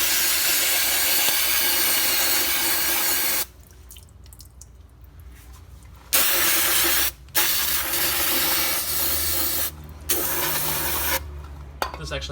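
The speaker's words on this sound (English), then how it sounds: "just spray everything out" Cleaner sprays in a steady, loud hiss onto the ring gear of a Jeep Wrangler Rubicon differential, up close, broken by several short pauses and restarts.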